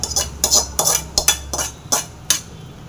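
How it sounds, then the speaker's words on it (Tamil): A metal spoon stirs a tempering into pongal made from ration raw rice, giving a close, rhythmic run of about eight scraping and clinking strokes against the pot over a low background hum. "இந்த ஊற்றிட்டு நல்லா கலந்துடலாம்"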